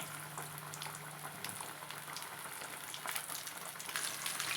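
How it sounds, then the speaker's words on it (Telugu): Chicken pieces frying in well-heated oil in a pan over a medium flame, giving a dense, continuous sizzle and crackle close up with no talking. "ఆయిల్ ఇలా బాగా హీట్ అయ్యాక చికెన్ పీసెస్ని ఇందులో వేసుకొని కాల్చుకోవాలి"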